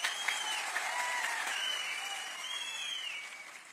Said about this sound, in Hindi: मैं तालियों की गड़गड़ाहट से पहचान लेता हूं